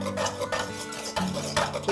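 A pastry blender stirs dry biscuit dough ingredients, baking powder and salt with flour, in a bowl, giving a few scraping, clinking strokes against the bowl in close, moderately loud bursts with no talking.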